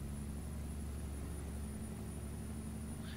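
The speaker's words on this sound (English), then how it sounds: "I love the sound of these Caterpillar engines." A steady, low Caterpillar truck engine drone from a truck-driving video game idles on without change, a continuous rumble with no voices over it.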